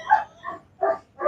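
Several dogs bark in separate bursts at a bite work training session, three or four loud barks with short pauses between them and no talk over them.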